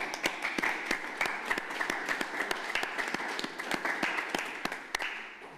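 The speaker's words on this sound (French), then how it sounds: "Je crois qu'on peut s'applaudir." Applause at a municipal council meeting after a unanimous vote, a small group clapping with sharp, distinct claps rising from a moderate patter in the room and fading slightly toward the end.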